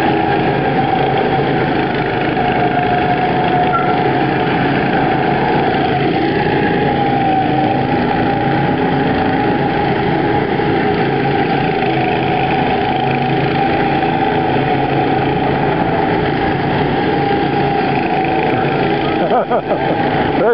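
Small go-kart engines drone steadily at a Wahoo's theme park track in Meridian, Idaho, a continuous loud buzzing hum with no break, steady throughout with no voices.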